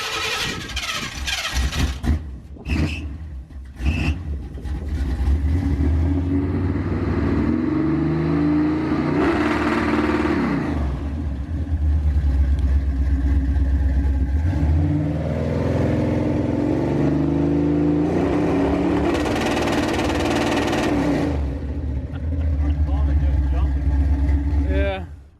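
A $600 street truck's engine revs hard on a two-step launch limiter, a loud sustained roar with rising and falling pitch and sharp bursts, heard close and mostly alone after a few brief opening pops.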